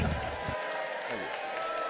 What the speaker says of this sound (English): I appreciate canned applause